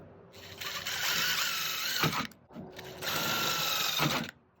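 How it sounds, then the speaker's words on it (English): A small power drill whines in two bursts of about two seconds each while drilling pilot holes for a screen door install, with a short pause between them, close and fairly quiet. "Now you got little pilot drill holes."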